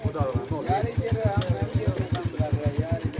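A motorcycle engine idles close by with an even, rapid low thumping pulse that runs throughout, while voices talk over it.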